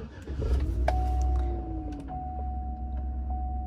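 A 2013 Chevy Avalanche starts up with a short cranking burst that settles into a low, steady idle rumble, while a thin electronic chime tone sounds inside the cab.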